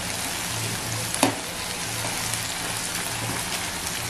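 Capsicum sizzles in oil on a tawa for egg tawa masala, a soft steady hiss close by with one sharp clatter of a utensil early on, otherwise even and unvoiced.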